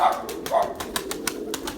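Pigeons in training coo and flutter near a pit, with several soft, closely spaced calls and light wing or movement taps over a quiet background.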